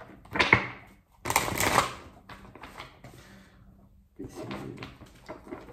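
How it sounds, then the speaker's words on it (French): A deck of tarot cards shuffled by hand during a reading, with bursts of riffling and soft papery rustle, a pause, then lighter card handling close to the microphone. "Je vais mélanger des cartes"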